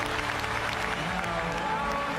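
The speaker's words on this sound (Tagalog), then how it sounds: "Grabe ingay ng tao." A large crowd roars steadily at a boxing match featuring Naoya Inoue, a constant distant arena din of voices and applause under a commentator's voice.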